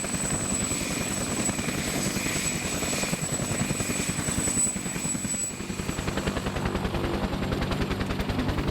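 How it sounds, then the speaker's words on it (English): A CH-53E Super Stallion helicopter's rotor thumps steadily and loudly throughout in the desert, a continuous heavy chopping drone with high engine whine, no voices. "A CH-53E Super Stallion landed in the desert and refueled a French Army Gazelle light attack helicopter."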